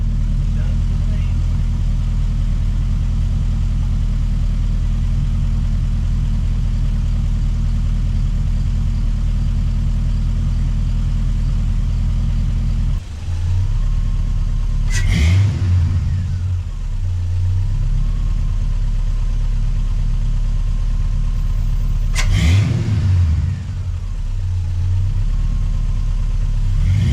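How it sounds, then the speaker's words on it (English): A heavy engine in a 1981 Chevrolet C10 truck idles with a deep, steady rumble, then revs up twice in brief surges before settling back, close and loud. "we finally have the truck running and driving under its own power"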